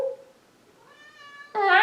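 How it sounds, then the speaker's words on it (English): A pet cat meows at a door at home, a short low call followed by a rising, clearer meow and then a louder, bright final cry, each close by with no talk over them. "He's always meowing at the door like there are people outside."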